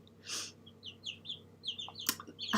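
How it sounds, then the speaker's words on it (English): Hens clucking and chirping indoors, a string of short soft calls close by over a low room hum, with no one speaking. "I love the sound of the chickens."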